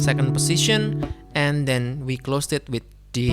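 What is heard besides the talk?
No everyday noise stands out behind the speech.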